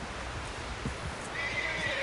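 Horse neighing in the Red Dead Redemption 2 video game, a short whinny over a dense rumble of ambient game noise with faint hoof clatter, mid-distance and fairly quiet.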